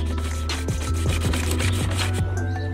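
Wet and dry sandpaper rubbed over a car grille during wet sanding, steady rhythmic back-and-forth strokes close up over a constant background hum.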